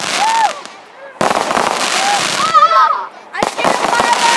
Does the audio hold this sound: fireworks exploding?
yes